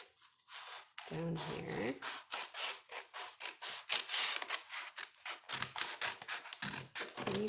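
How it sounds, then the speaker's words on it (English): Scissors cut a paper grocery bag along its fold line in a steady series of rasping strokes. The strokes sound close and fairly loud, and a voice speaks briefly over the cutting. "Use this nice fold line to cut, and then I'm going to cut it in half from there"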